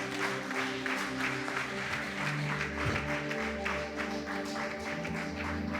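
A church congregation claps and applauds together, a steady patter of many hands under sustained organ or keyboard chords, moderately loud and continuous.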